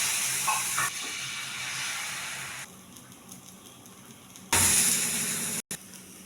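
Adai dosa batter with small onions, coconut bits, coriander and curry leaves sizzles on a hot pan, a bright hissing crackle that drops back partway, then flares loudly again near the end before cutting off.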